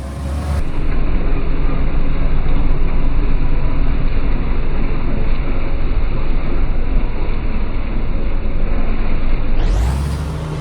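Tractor engine running steadily during deep tillage of a field ahead of sugar beet planting, a loud continuous low rumble that holds for about ten seconds before fading out.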